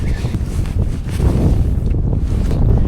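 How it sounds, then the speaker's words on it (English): Wind gusts steadily outdoors at a fishing spillway, a loud broadband rush with low rumble that swells slightly after the first second and stays constant, with no voices. "that wind is pushing it"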